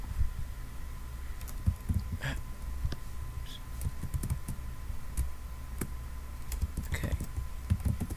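Computer keyboard being typed on in a Word document, irregular soft keystrokes tapping steadily for several seconds, close and fairly quiet, with a brief spoken word.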